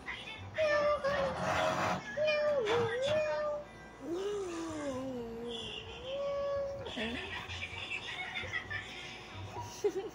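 A child makes a meowing sound, imitating a cat with several drawn-out, wavering cries, as adults nearby laugh and talk.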